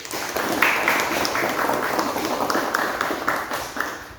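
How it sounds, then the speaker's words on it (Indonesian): A school assembly of vocational high school students claps together, a steady wash of hand claps with distinct individual claps throughout. "Tepuk tangan dulu."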